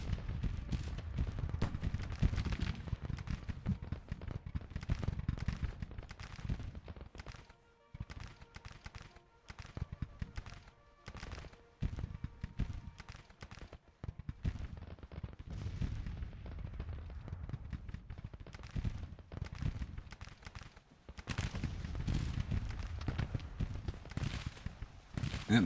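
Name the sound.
gunfire and artillery in the video game Grand Tactician: The Civil War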